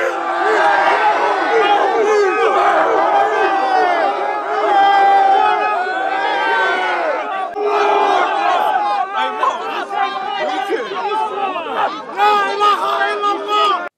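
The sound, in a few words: large crowd yelling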